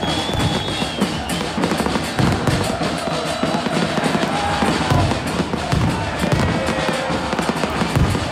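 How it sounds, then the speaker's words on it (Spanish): Fireworks burst over a football match at San Carlos de Apoquindo stadium, a dense, continuous crackle of loud pops and bangs that runs for the full stretch without a break. "hasta con fuegos artificiales recibieron a su equipo"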